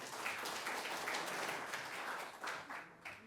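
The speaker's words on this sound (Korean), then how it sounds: "환영의 박수 부탁드리겠습니다" Audience applause welcoming a speaker at a 40th-anniversary ceremony of the Council for the Promotion of Democracy in Korea; dense, steady clapping from a crowd, fairly quiet and distant, easing slightly near the end.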